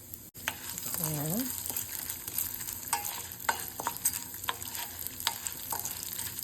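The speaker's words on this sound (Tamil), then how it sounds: "இப்போது கொஞ்சம் கடலைப்பருப்பு, உளுத்தம்பருப்பு, தனியா வச்சுருக்கிறேன். டக்குன்னு பொரிஞ்சிரும்." Chana dal, urad dal and coriander seeds fry in hot oil with a loud, continuous sizzle, sharp pops and crackles scattered throughout, and brief clinks of a utensil near the start.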